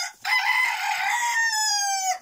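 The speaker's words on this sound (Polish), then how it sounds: "trochę popatrzymy sobie na kurki" A rooster crows loudly and close in a henhouse, one long drawn-out call with hens clucking faintly around it, no talk.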